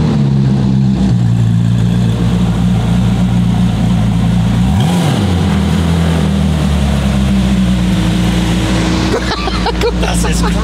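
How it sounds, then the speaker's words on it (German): A powerful Koenigsegg supercar engine revs hard and loud, its pitch climbing and dropping with throttle, with voices talking over it. "Der Motor hat eine Art und Weise, wie der hochdreht."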